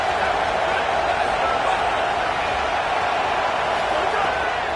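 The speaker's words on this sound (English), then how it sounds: "Listen to this crowd just shaking the girders of this place" A packed college football stadium crowd roars in a steady, dense wall of noise that holds unbroken from start to finish, with no single voice standing out.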